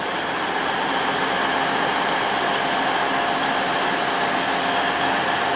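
A Class 180 diesel multiple unit departs a station platform at Grantham, rumbling steadily with a broad, constant roar of engine and rolling wagons, close and loud, with no voices.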